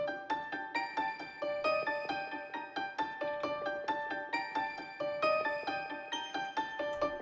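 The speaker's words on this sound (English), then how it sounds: "I ended up using this bell right here from a Starlight plugin that I have" A bell patch from a Starlight synth plugin plays a bright counter melody, a quick series of struck notes with ringing overtones in a steady rhythm, clean and alone.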